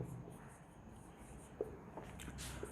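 Pen scratching on paper while a maths proof is written out, faint and close with a few small taps, no voice.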